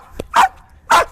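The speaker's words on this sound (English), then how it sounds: "Let her bark, stay in spot, let her bark." A dog barks loudly and close by, with a short yelp followed by two sharp barks about half a second apart, heard during obedience training.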